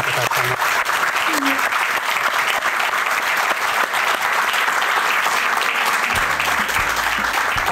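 A studio audience breaks into dense, sustained applause, loud and even throughout, with a few faint voices underneath.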